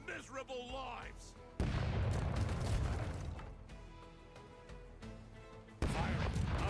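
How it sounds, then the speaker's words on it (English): Ship cannons fire in the pirate game Rogue Waters, with heavy booming blasts that open a sustained roar of gunfire at close range and a second volley near the end, under shouted voices. "Let's hear those cannons roar."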